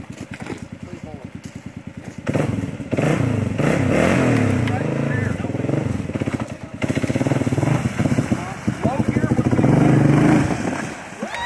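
A motorcycle engine revs hard and steadily while the bike pushes through a shallow creek, its rough throttled roar loud and sustained throughout, with water churning beneath and voices talking over it.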